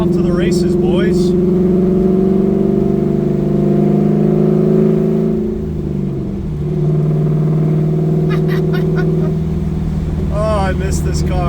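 Inside a 1969 Camaro swapped with an LS3 V8 and six-speed manual, the engine drones steadily with a deep hum, dipping briefly at a shift before pulling again, with a voice speaking over it at times.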